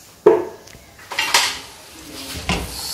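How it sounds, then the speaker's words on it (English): Ogbono soup with palm oil mixed in a pot, with a few close metallic clanks and scrapes of a spoon against the pot, spaced irregularly. "Mix together until you get a smooth consistency."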